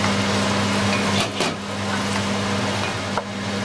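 Fish with finely chopped parsley stirred in a frying pan: a steady close sizzle with a couple of brief scraping stirs, no talking.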